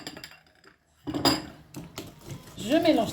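A utensil clinks against a bowl while egg and lemon zest cake batter is mixed, with a quiet start followed by a burst of scraping and tapping. A voice briefly sounds near the end.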